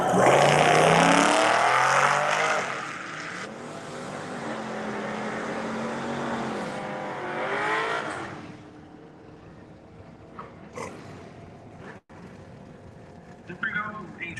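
A 1971 Chevelle and a 2001 Mustang launch side by side at a drag strip, loud roaring engines rising in pitch then fading into the distance, with an announcer's voice over the noise and quieter crowd sounds afterward.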